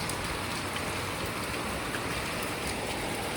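Steady, dense rain pours down, a constant hiss of drops on surfaces with no pauses or voices.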